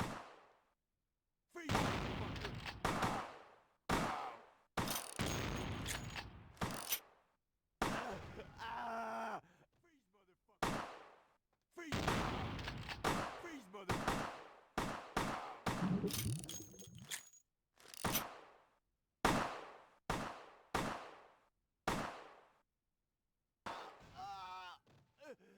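Shotgun blasts in the video game Vampire: The Masquerade - Bloodlines ring out as repeated sharp, loud bursts separated by short silences, mixed with groans and thuds of combat.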